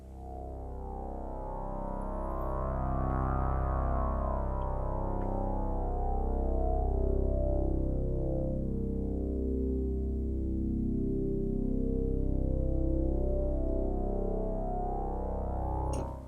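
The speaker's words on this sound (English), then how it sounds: "And the filter is sweeping." A long, steady synthesizer drone, loud and alone, its filter sweeping slowly up and down and giving the tone a swelling, wavering brightness that rises and falls.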